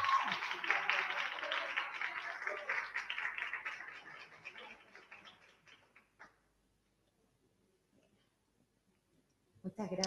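Students clap and cheer at an academic conference panel, a dense burst of applause that fades out after about six seconds, followed by near silence and a brief final clatter.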